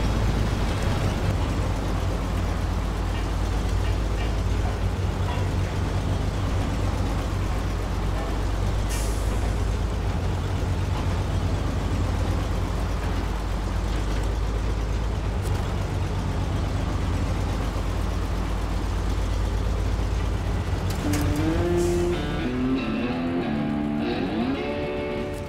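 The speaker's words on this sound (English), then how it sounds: "Just hook up to it and tow it over to the nearby delivery point." A truck towing a trailer in the video game SnowRunner, a constant heavy engine drone with low rumble throughout, then rising and falling engine revs near the end.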